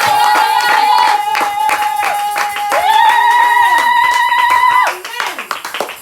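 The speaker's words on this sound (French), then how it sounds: "Acclamons très fort pour Jésus ce matin" A church congregation claps loudly and rhythmically for Jesus while sustained singing or music carries on underneath, and the clapping thins out near the end.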